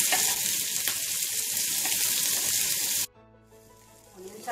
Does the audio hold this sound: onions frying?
yes